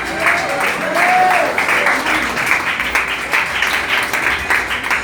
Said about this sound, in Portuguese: pode aplaudir ele essa noite em nome de Jesus